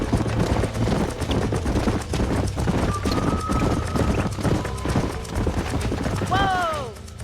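Rapid hoofbeats of galloping horses in the video game Red Dead Redemption pound steadily throughout, with a horse whinnying near the end and faint voices mixed in.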